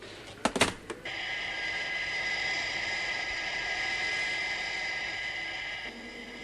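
Steady jet aircraft engine roar holds at constant loudness for about five seconds, preceded by a few sharp, brief bursts at the start and dropping away near the end.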